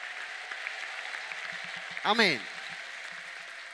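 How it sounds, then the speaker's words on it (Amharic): A congregation at a prophet's healing service cheers with a burst of high, trilling ululation and applause rising over steady crowd noise, then settling back down as a voice speaks. "ለጌታ ከፍ ያለ እልልታ የሚሰጥማን"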